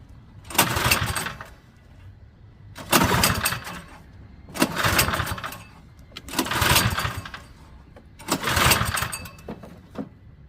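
A Craftsman snowblower's small engine being pull-started five times at a steady pace. Each loud, rasping burst of cranking lasts about a second, then dies away, and it never catches.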